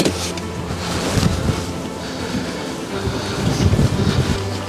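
Strong wind buffets a YPC Boat 26 fishing boat out on the water, a constant roaring rumble with gusty surges and no clear voices.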